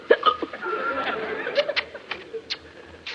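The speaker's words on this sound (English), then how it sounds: "If only you'll stop those awful hiccups." A woman hiccups in sharp little bursts mixed with chuckling laughter in a comedy scene, close and clear, several hiccups spread over a few seconds.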